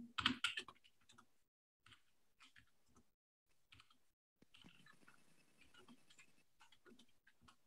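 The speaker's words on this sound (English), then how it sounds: "I'm going to start typing the details of the offer here." Someone types on a computer keyboard in bursts of quick, close, crisp keystrokes separated by short pauses, ending in a denser run of clacking.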